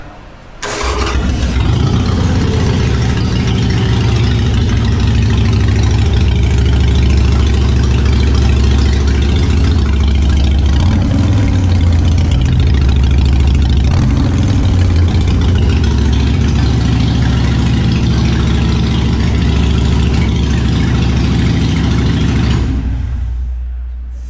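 A 2020 Harley-Davidson Dyna motorcycle engine idles loudly and steadily for about twenty seconds, a deep continuous rumble close to the listener.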